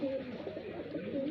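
Highflyer pigeons coo nearby in Bareilly, Uttar Pradesh, a soft, low, wavering call that rises and falls steadily through the moment.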